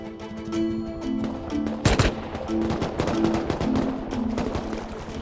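Gunfire in the survival game Rust crackles through a busy soundscape, with repeated shots and one especially sharp, loud blast partway through over a low background tone.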